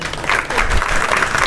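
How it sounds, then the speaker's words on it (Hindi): Audience applause at a stand-up comedy show in Karachi: a dense, steady wash of clapping from a seated crowd that holds at an even loudness through the whole short stretch, with no voice over it. "ज़ोरदार तालियां मेरे लिए"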